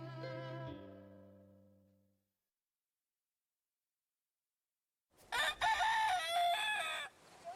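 Chickens in the Surrey Hills: a rooster crows loud and close, then after a few seconds of silence hens cluck and squawk in a busy burst, with no voices.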